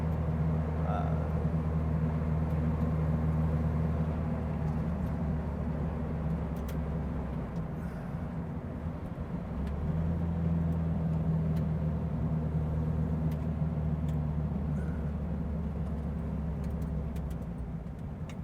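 A 1960 Porsche 356 Abarth tribute engine idles with a steady low rumble, revs rising briefly around the midpoint, under intermittent talking.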